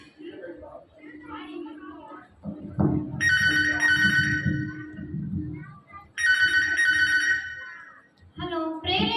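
A telephone rings twice in bright repeated bursts, with someone speaking in Telugu underneath and between the rings.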